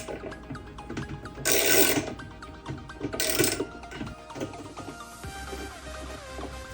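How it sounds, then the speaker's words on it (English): A ratchet wrench with a size 12 socket loosening a small bolt while taking apart a washing machine, giving quiet mechanical clicking and ratcheting with two brief louder bursts of noise, close and fairly faint. "You're gonna grab your ratchet set. I'm using a size 12 to grab this middle piece out right here."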